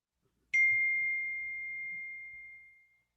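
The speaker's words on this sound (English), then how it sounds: "I love that bell. It's like a meditation bell." A meditation bell is struck once, a clear bright ring that starts sharply and fades slowly over about two and a half seconds in an otherwise quiet room.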